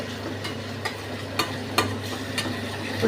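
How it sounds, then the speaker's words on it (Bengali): Vegetables and small mourala fish are stirred in a pan for chorchori: a steady close sizzle with a few soft scraping strokes of the spoon. "এবার একটু নেড়ে দিচ্ছি"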